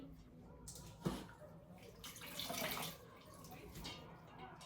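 Water splashing and running while a cooking pot (சட்டி) is washed in a kitchen, with a sharp clatter near the start and steady close rinsing noise throughout.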